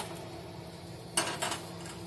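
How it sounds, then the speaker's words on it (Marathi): A heavy metal kadhai set down on a lit gas stove: one sharp clank followed by a softer knock, close by in a quiet room. "इथे गॅस पेटवून आपण ही कढई ठेवून घेऊया."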